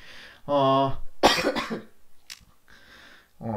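A person coughs several times close to the microphone, a harsh hacking burst followed by a few smaller coughs and throat clearing.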